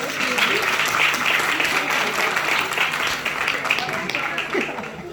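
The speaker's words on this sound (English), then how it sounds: "Give yourself a big round of applause" A large audience at a high school excellence awards ceremony claps steadily and densely, a sustained wash of applause that continues without a break from start to finish.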